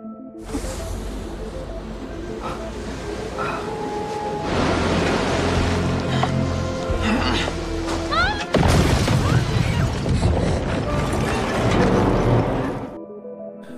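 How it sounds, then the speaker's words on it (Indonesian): A homemade bomb planted under a lighthouse detonates in a film scene, a loud crashing roar with shattering debris and rumbling that swells, surges again midway and then cuts off. "Lu pun meledakkan bom rakitan yang dipasang Philip di bawah mercusuar"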